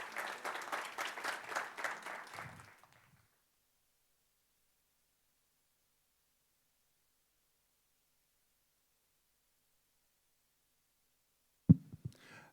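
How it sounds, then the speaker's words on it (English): An audience at a startup event applauds a speaker for about three seconds, dense clapping that quickly stops, followed by long silence and a brief knock at the end. "A big round of applause to Mr."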